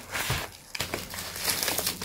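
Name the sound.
unwrapping paper and tape packaging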